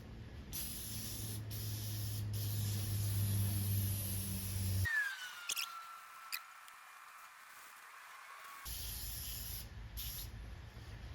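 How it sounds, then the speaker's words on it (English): A long continuous aerosol hiss sprays steadily onto a 1988–1992 Chevrolet Camaro IROC-Z convertible top, stops for a few seconds of near silence with faint clicks, then starts again. "Spray"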